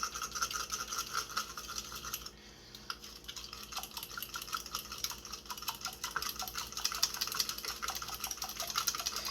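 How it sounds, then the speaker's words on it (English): A small handheld battery drink mixer whisks salad dressing in a little container, giving a steady, close, high-pitched buzzing whir with light liquid spatter that runs the whole time, briefly easing off near the start. "I have this little drink mixer thing that I like to use for small stuff like this"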